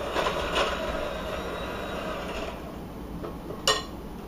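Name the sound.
electric mixer running on medium-high speed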